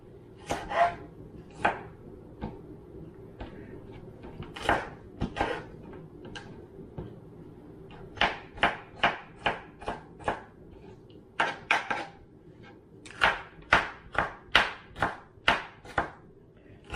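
A knife chops food small on a cutting board, sharp close taps coming in irregular bursts, sometimes single strokes and sometimes quick runs of several, with no talking.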